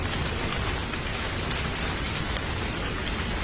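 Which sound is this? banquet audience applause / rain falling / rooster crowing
rain falling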